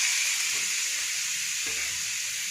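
Garlic frying in hot oil in a pan, a steady close sizzle and crackle with a brief soft thump partway through.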